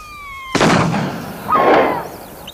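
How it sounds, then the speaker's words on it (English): A flare gun fired on a wartime airfield, a sudden sharp bang followed by a hissing, whooshing flare burn that swells again about a second later; a faint tone fades out just before the shot. "The flare's just a decoy."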